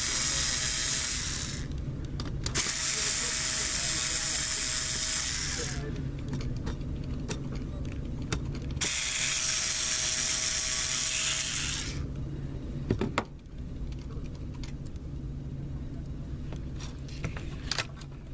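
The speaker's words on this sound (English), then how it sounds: "you gotta take out these 4 hinge cover screws" An electric screwdriver backs out the four hinge cover screws on a Dell Latitude 6440 laptop, giving two long whirring bursts of a few seconds each, close and steady, followed by quieter handling clicks.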